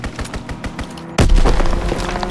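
A fighter aircraft's strafing run in a video game's Hardpoint match on the Gibraltar map: scattered shots give way to a sudden loud, dense burst of rapid gunfire and booms that rolls on steadily to the end.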